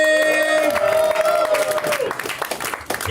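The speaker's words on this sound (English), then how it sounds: "put your hands together right now for Emily Wynn" A comedy club crowd claps and cheers to welcome a comic to the stage, steady applause and whoops under a loud sustained musical tone that fades out partway through.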